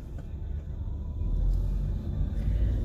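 A car driving on the road, heard from inside as a steady low rumble of engine and tyres that swells slightly partway through, with no talking.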